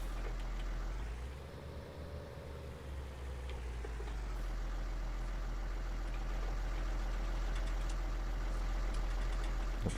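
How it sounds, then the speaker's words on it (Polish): A combine harvester's engine idles in the Farming Simulator 19 video game, a steady low drone that holds at one even level throughout with no voices. "silnika nie gasimy, bo turbina się musi też wychłodzić"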